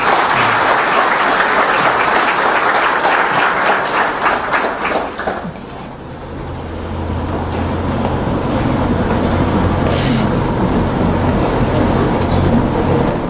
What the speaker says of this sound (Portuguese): Uma salva de palmas para o nosso irmão.